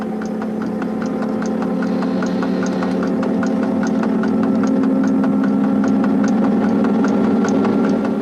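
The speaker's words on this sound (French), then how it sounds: "l'on entend le chant des moteurs, si caractéristique de la mise en vitesse des 6500" A steady, droning motor hum with a rising whine and rhythmic ticking from the motors of a CC 6500 electric locomotive accelerating, continuous and fairly loud throughout, no voices.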